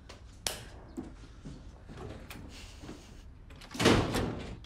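A door closes indoors in a home with one soft knock and then a louder rattling thud near the end. A quiet room hum sits underneath and no one speaks.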